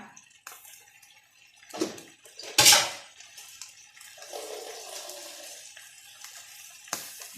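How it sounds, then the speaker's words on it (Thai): Water is poured into a wok of stir-fried clams with roasted chili paste, a short splash and hiss amid sizzling, with a brief bright burst and softer bubbling around it. "น้ำไปสักนิดหนึ่งนะคะ"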